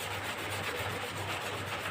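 Steady, continuous rubbing and scrubbing of a printed circuit board to smooth it evenly, a dense rasping texture at low level with no pauses and no talk.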